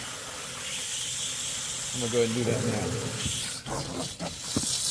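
Water hisses steadily as it is sprayed onto the double-row heat exchanger coil of an American Standard gas package unit, with someone talking over the spray at close range.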